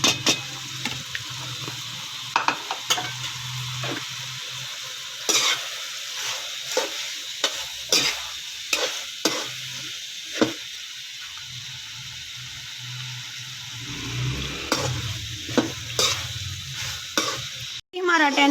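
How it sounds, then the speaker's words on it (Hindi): Capsicum and cabbage go into a hot frying pan for chicken macaroni and are stirred, giving repeated scraping strokes over a low sizzle, with a splashy patch and a sharp knock near the end. "अब मैं इसमें ये शिमला मिर्च डाल रही हूँ और साथ ही ये बंद गोभी।"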